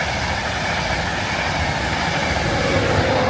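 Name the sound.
Class 91 train passing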